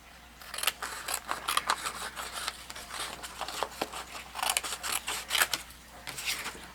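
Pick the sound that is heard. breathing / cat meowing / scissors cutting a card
scissors cutting a card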